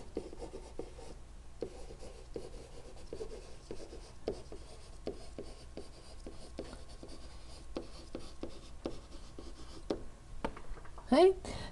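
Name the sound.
writing on a board while drawing a graph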